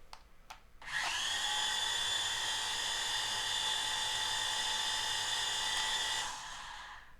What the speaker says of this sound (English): You can hear that, them gears in there grinding away.